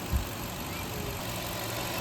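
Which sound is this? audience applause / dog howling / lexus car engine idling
lexus car engine idling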